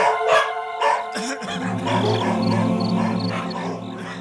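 A dog lets out a few sharp barks in quick succession near the start, then a sustained droning tone carries on to the end.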